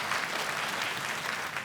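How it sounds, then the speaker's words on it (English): Applause from the audience at a commencement ceremony, a steady wash of many hands clapping, moderately distant and even in level across the brief moment. "I certainly think we should give another round of applause."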